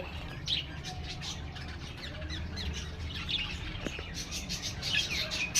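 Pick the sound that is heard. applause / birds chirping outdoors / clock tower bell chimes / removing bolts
birds chirping outdoors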